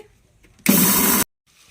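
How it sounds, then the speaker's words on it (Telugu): Mixer grinder grinding spices to a fine powder for bitter gourd masala: a loud, steady whirring roar that starts abruptly and cuts off after about half a second, with quiet room sound on either side. "వీటన్నిటిని కలిపి ఇప్పుడు మిక్సీ పట్టుకుంటున్నానండి. మెత్తగా పొడిలాగా పట్టుకోవాలి."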